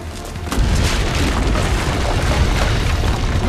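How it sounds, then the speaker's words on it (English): Cannons fire from the ramparts in the video game Assassin's Creed Brotherhood: a heavy boom at the start swells into loud, sustained rumbling battle noise. "The cannons above the ramparts."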